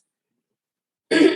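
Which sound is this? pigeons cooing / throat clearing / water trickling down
throat clearing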